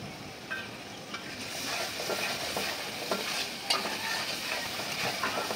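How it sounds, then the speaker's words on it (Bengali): Vegetables stir-fry with soy sauce for a Chinese-style dish, a steady close sizzle with occasional scraping stirs and light clinks of a utensil against the pan, no voices. "আমার সবজিগুলো একদম ভাজা হয়ে গেছে"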